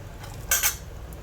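A spoon scrapes and clinks against metal as roasted cashews are moved into another vessel, two quick close clinks standing out over a quiet kitchen background.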